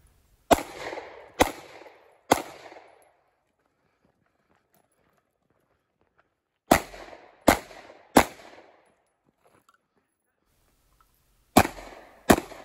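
Pistol shots hitting steel plate targets at an outdoor two-gun shooting match: three sharp reports in quick succession, then a pause, three more in a row, then two more at the end, each crisp and ringing.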